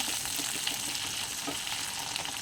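Garlic, green and dried chillies, mustard seeds and cumin sizzling in hot coconut oil in a pan, a dense steady frying crackle with small pops, close and loud with no talking.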